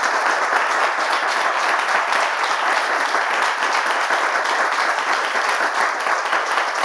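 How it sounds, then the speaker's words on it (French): A live audience at a French talk-show taping claps in steady, dense applause that fills the room evenly for several seconds, loud and unbroken, with no one speaking over it. "Vous allez vous applaudir."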